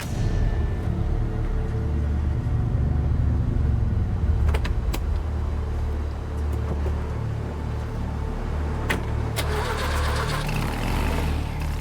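An undercover car's engine hums steadily and continuously, a low, even drone with a few faint clicks and knocks partway through.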